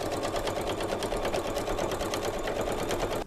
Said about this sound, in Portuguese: eu vou à máquina novamente passar uma costura bem na beiradinha aqui de segurança.